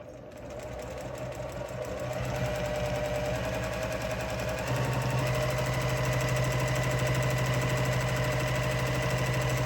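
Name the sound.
sewing machine stitching a stipple on a quilt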